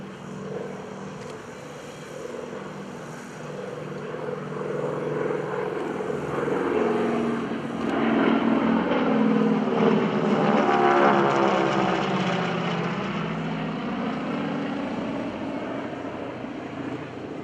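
A North American T-6 Texan propeller plane with a Pratt & Whitney R1340 radial engine drones past at an airshow, its rumbling roar swelling as it nears, peaking, then slowly fading away.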